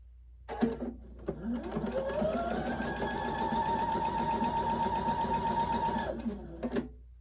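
Sewing machine stitching quilt star block pieces, a steady close whirring hum that starts after a brief burst, runs evenly for about five seconds and then stops.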